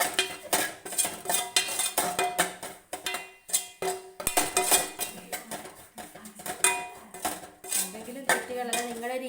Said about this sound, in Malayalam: അതിൻ്റെയും പച്ചമണം നന്നായിട്ട് മാറുന്നത് വരെ ഒന്ന് ഇളക്കി കൊടുക്കണം.